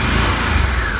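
A 2022 Harley-Davidson Pan America engine revs loud and close through its stock exhaust in one brief, rough burst.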